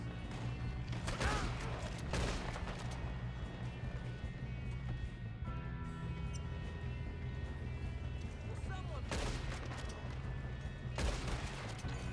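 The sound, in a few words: gunfire from the video game Red Dead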